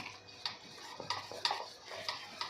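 A spoon stirs gram flour batter with water in a bowl, making soft wet swishes punctuated by several light clinks against the side, close and quiet, with no talking.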